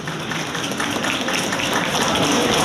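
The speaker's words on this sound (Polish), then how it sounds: "Brawa się należą." Crowd applause at the opening of a new building in Malbork, a dense and steady wash of clapping that swells slightly toward the end.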